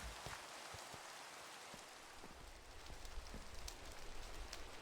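Steady rain falls in Minecraft, a dense continuous patter of drops that holds at an even, moderate level and swells slightly toward the end, with no talk.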